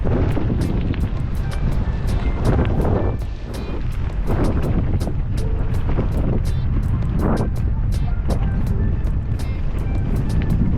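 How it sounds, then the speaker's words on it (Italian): Wind rushing past while riding a Cannondale Topstone Carbon 2 carbon gravel bike, a continuous loud buffeting roar with scattered ticks and rattles throughout. "Ora c'è un po' di vento contrario, ma nulla di che"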